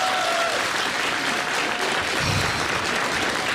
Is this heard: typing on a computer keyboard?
no